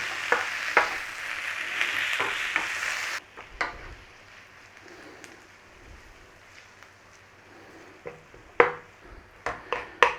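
Onions caramelizing in a pan for boulangère potatoes give a loud, busy sizzle for about three seconds, then drop to a quiet hiss broken by occasional knocks and stirring clatter.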